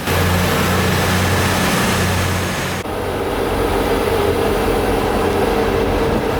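Steady low rumble of a newly arrived Newcastle train idling at a station with rail noise and a change in tone midway, continuous and fairly loud, with no voices.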